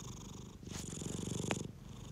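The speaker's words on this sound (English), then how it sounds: "can you hear the cat purring?" A male cat purrs loudly and steadily in a quiet room during a board game session, a close continuous rumble heard alone without talk.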